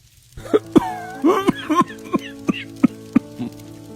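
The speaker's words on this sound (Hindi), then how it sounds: "तेज तेज खांस रहा होता है" A man gives a string of sharp, harsh coughs, about eight rapid bursts in a row, over a faint steady background tone.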